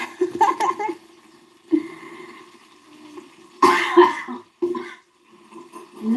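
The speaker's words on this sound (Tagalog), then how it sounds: "Inuubo kasi ako din." A woman coughs several times while cooking traditional Ilocano laddit soup, with short harsh bursts separated by quieter kitchen noise.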